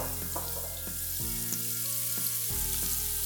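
Soup ingredients, including celery, sizzle as they are stirred and sautéed in a pot, a soft continuous frying hiss under steady tonal music.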